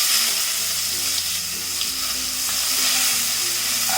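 Chopped onion dropped into a hot pan with garlic for spicy masala pasta, a steady broadband sizzle and crackle running throughout with faint stirring scrapes, close and fairly loud, no talking.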